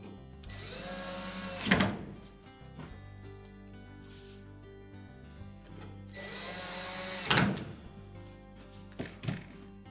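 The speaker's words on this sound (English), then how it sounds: "And then replace the two retaining screws in the back." Power drill driving two retaining screws into the back of a Whirlpool dryer, two separate whirring bursts a few seconds apart, each ending in a short clunk, close and clear with no talk.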